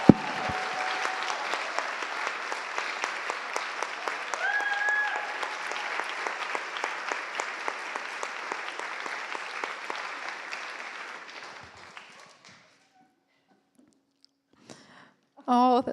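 Award ceremony audience breaks into steady, moderately distant applause lasting about twelve seconds, then fades out to near silence before a brief noise at the end.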